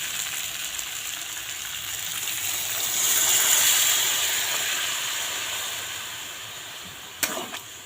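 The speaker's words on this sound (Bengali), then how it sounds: "আমি এখন এর মধ্যে জল দিয়ে দেবো" Water poured into a pan of frying masala and peas for ghugni, a steady loud hiss and sizzle that swells in the middle and then eases, with a brief clink near the end.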